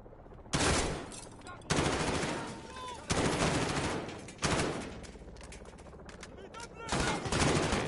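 Gunfire in Modern Warfare comes as five loud, sharp bursts spaced about a second apart, each with a ringing decay, with a voice briefly in between.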